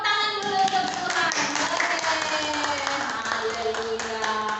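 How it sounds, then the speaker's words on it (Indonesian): Hands clap at an online Sunday school church service, rapid clapping mixed with voices, children's among them, while melodic singing or speech runs through the whole stretch. "Tepuk tangan dulu untuk Tuhan."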